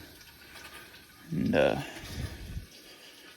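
Dirty coolant water runs from the cracked radiator of a 1955 Buick with a Nailhead engine, a brief gush of splashing lasting about a second over low background hum, with a voice speaking briefly.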